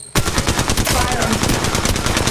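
Rapid automatic weapon fire in the Apex Legends battle royale game rattles out in a dense, continuous burst right up close, dominating the whole stretch.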